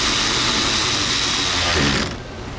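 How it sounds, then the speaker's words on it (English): Ratchet wrench clicking on an Infiniti M35x 3.5 with a loose, wobbly socket, a dense steady mechanical chatter running close and loud for two seconds before cutting off abruptly. "Actually, it was wobbly clickage because my socket was wobbly."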